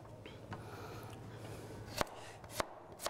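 A sharp knife slicing christophine (chayote) into slices on a board: quiet close cuts with a few crisp taps against the board toward the end, over soft room hiss.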